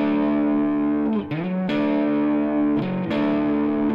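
A distorted electric guitar plays a double stop on the 3rd and 4th strings. It sustains loudly, with quick slides between sixth shapes that give gnarly, smeared pitch bends, and no talking.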